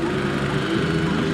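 Grasstrack racing motorcycle engines rev hard together at the start of a 2006 race, a continuous loud buzzing roar from several machines close by, rising slightly over a brief moment.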